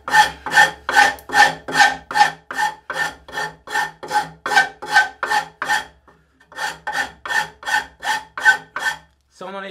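A Shinto saw rasp's fine finishing teeth scrape soft fir wood in steady back-and-forth strokes, about twenty close, loud rasping passes with a short pause midway.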